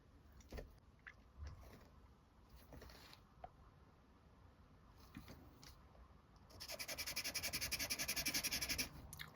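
General's chalk pastel pencil scraping across sulphite paper, a dense rapid rasping from about the midpoint onward that is louder than the softer rubbing strokes before it, with no speech.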